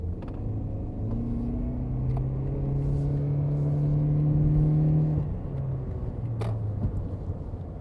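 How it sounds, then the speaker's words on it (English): Hybrid car cruising on a road, its electric motor and gas engine giving a steady low rumble with a rising whine that holds, then drops off near five seconds before resuming. "The combination of the electric motor with a lot of torque and then the gas engine locked in at the speed limit works really nice"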